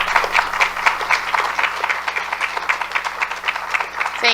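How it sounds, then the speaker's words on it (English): Audience applause at a city council meeting, a steady wash of many hands clapping throughout, fairly close and continuous with no voices over it. "we'll try to hold applause for the rest of the meeting"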